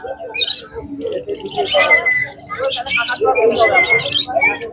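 Exotic birds at a pet market, including cockatiels, chirp and squawk in bright overlapping calls nearby while people talk among them.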